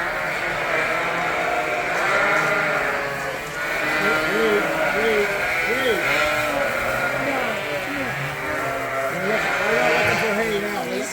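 Sheep and lambs bleating on a farm, many overlapping calls from a flock with repeated wavering bleats throughout, some near and some farther off, over a steady background rumble.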